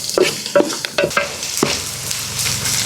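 Green chillies drop onto frying onions for Nellore fish curry, a few sharp spoon scrapes and clinks against the pan, then an even sizzle carrying on close by.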